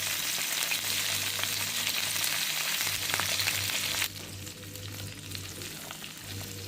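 Tomatoes and green chillies frying in a pan, a dense continuous sizzle up close that drops slightly in loudness partway through, with no voices.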